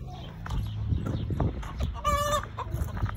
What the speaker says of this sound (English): that chicken is being real annoying